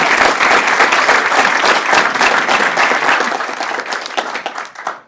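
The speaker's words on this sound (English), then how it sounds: "It's okay to clap for Deputy Drew." An audience at a school board of education meeting claps for a deputy, a loud, dense round of applause that gradually thins and tapers away toward the end.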